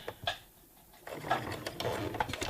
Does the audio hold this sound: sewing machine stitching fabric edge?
yes